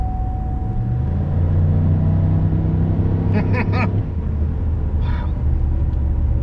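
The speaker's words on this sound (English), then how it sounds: "It is definitely the fastest Grand Prix I've ever driven." A Pontiac Grand Prix GXP with a factory LS V8 rumbles steadily from inside the cabin as it drives and accelerates, with a low droning tone throughout; a person briefly exclaims partway through.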